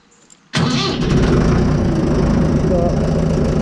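A Fordson Major diesel tractor fires up abruptly after a brief quiet moment, then settles into a loud, steady, rumbling idle heard up close with no voices over it.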